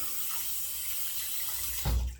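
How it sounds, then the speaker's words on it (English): Tap water runs steadily into a sink while a new shaving brush is rinsed under it, a close, even hiss ending in a brief louder splash. "What I like to do is just rinse it out, and it should be good to go"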